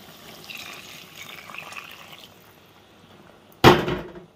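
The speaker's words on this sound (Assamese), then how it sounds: "ভালদৰে ভাজিলো এতিয়া পানী দিম অলপ" After a faint stretch of low sizzling, water splashes suddenly and loudly into a pan of frying duck curry, a short burst close by, with no talk.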